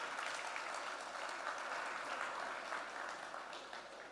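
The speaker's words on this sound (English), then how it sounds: "Let's have a big round of applause for everyone" Steady audience applause at the OPPO Find X9 series launch event, a dense even wash of clapping from a large crowd that holds constant before fading slightly at the end.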